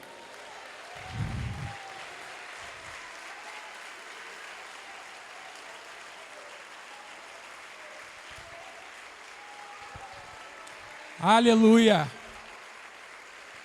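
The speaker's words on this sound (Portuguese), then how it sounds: "Você pode aplaudir a Ele?" Church congregation applause after the preacher invites it, a soft, diffuse patter of clapping spread across the hall under faint background murmur, with a single voice calling out loudly near the end.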